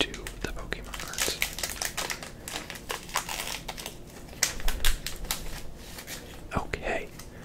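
Club Penguin trading card packs are torn and unwrapped up close, giving crisp crinkling foil and paper rips, sharp snaps and rustles in an uneven rhythm with faint soft speech.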